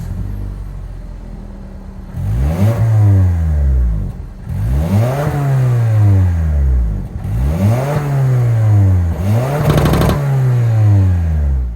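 A 2024 Toyota Camry LE's 2.5-liter four-cylinder engine revs up four times in succession, each loud rise climbing then falling back to a rumbling idle.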